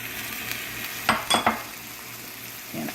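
Beef and vegetables in an Asian-style skillet, seasoned with chili powder, black pepper and a touch of sugar, sizzle steadily at close range, with a few sharper stirring scrapes bursting through around the middle; no one speaks.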